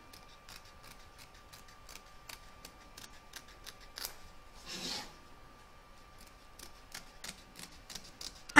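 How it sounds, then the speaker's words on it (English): Scissors snip away excess fabric around an embroidery hoop while an in-the-hoop vintage witch boot is being made: quiet, regular cuts with one fuller, rasping snip partway through, in a still room. "You're now going to trim up the excess fabric from both back and front of the hoop."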